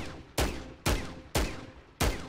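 Five sharp gunshots from the Sweet Siren mastercraft weapon in Modern Warfare III, evenly spaced about half a second apart, each with a bright musical tone ringing over the crack and a short decaying tail, loud and close.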